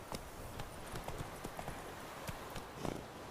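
Roach, Geralt's horse in the video game The Witcher 3: Wild Hunt, gallops with quick, rhythmic hoofbeats that stay fairly soft and even, and no one speaks.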